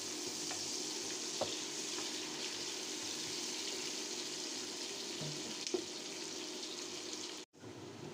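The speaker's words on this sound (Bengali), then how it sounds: "দিয়ে দিচ্ছি পেঁয়াজ নাড়াচাড়া দিয়ে গোল্ডেন ব্রাউন করে ভেজে নেব" Onions fry steadily in hot oil with cardamom, cinnamon, cloves and whole cumin, a dense continuous sizzle with soft stirring scrapes throughout, then a sudden brief drop to near silence before the frying resumes.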